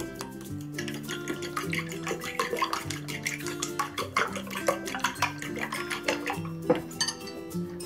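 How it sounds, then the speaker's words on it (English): A whisk clatters briskly against a bowl while eggs are beaten for spicy fried eggs with black fungus and yellow chives, a rapid run of light metallic clinks and taps close up with no talking. "Give it a good whisk."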